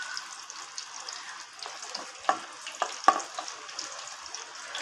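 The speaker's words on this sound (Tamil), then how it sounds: "பாருங்கள், வெங்காயம் வதக்கிட்டுருக்கோம்" Onions sauté in hot oil in a pan, a low continuous sizzle broken by a few distinct scrapes and taps of a spatula stirring them.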